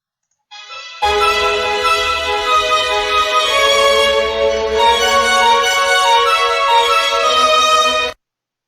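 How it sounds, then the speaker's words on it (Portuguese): Violin plays a sustained, bowed melodic line, bright and close, with smooth note changes held steadily for around seven seconds before stopping abruptly. "é o timbre do violino"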